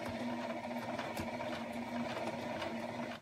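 A home sewing machine stitches at a steady moderate pace, a continuous close motor whir with rapid needle clatter and no voices.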